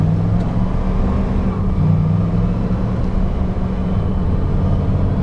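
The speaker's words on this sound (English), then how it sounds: "we'll put it in four low. It's in four low, here we go. That is definitely a low gear." A 2000 Dodge 2500 4x4 with the 5.9 diesel pulls away in four-wheel low, a loud, steady low-pitched engine rumble and drivetrain drone heard from inside the cab, with no talking.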